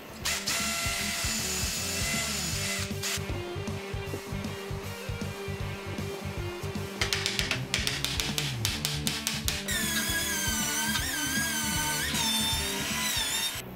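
A power drill whirs and bores dowel holes into solid walnut in repeated bursts, with the motor pitch shifting under load and brief clattering between runs, close and loud.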